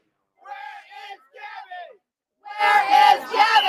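Protest crowd yelling outside a house: two short bursts of shouting, then a louder, sustained mass of voices yelling together at close range.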